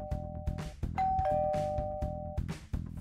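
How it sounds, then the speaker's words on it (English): A doorbell chimes with sustained ding-dong tones, ringing out clearly over a low rhythmic musical background that continues throughout. "the doorbell rang."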